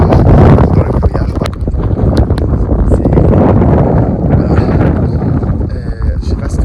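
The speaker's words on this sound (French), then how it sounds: "il y a vraiment beaucoup de vent" Strong, loud wind buffets the microphone without letup on a fog-covered summit in the Alps at Chamonix's Aiguilles Rouges, a dense roaring rumble filling the whole stretch with gust bursts.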